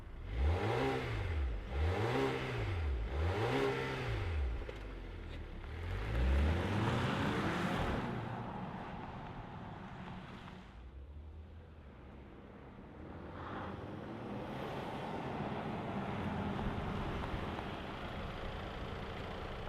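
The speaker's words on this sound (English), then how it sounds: "let's fire this up and see this Volvo move" 2025.5 Volvo XC90 T8 plug-in hybrid SUV revving in three rising and falling pulses, then pulling away and settling into a steadier, quieter engine hum.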